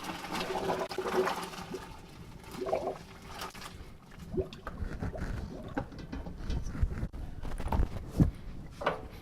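A pot of cooked lasagna noodles and water poured out to drain, giving a close, uneven splashing gush that runs for several seconds with a few louder surges and clunks.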